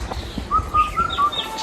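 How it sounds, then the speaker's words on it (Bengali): An Asian koel calls in a rural village near a bamboo grove, a series of four or five short rising whistled notes in steady rhythm, clear and moderately close over quiet background. "এটা কি কোকিল ডাকে?"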